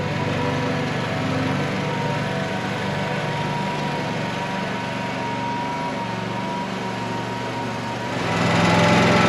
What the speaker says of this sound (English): Use a mower.